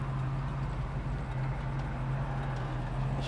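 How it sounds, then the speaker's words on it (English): A 1967 Ford Mustang with a 302 V8 idles smoothly, a steady, even low engine hum heard close and unbroken, with no voices. "Idling real nice."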